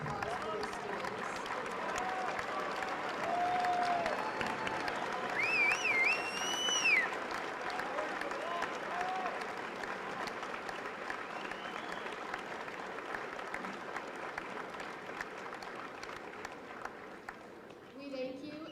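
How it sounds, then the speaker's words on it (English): An assembly audience gives a long round of applause for student veterans at a Veterans Day gathering, steady clapping lasting many seconds with a few whistles and cheers rising briefly, voices murmuring underneath. "Please join me in a round of applause for these students."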